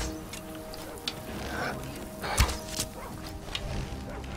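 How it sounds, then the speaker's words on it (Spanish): A dog barks in the video game Skyrim, a few sharp barks scattered amid game sounds and clatter, with one louder thud-like burst midway. "No puedo dejar que maten a mi perro,"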